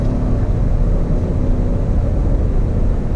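A 2019 GMC Yukon Denali Ultimate Black Edition SUV with a 420-horsepower engine climbs a hill, producing a steady, loud low rumble of engine and road noise heard from inside, continuous with no talking.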